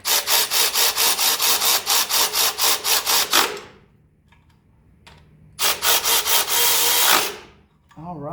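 A ratchet snugs bolts on an aluminum valve cover of a 1985 Mercedes 300TD. Two close runs of quick, even clicking are split by a short pause.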